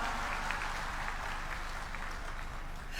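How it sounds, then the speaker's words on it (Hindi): A large crowd claps in sustained, dense applause at a political rally in Garhakota with Chief Minister Mohan Yadav, steady and fairly loud from start to finish. "जरा ताली वाली बजा, नहीं तो बोलना बंद कर दूंगा।"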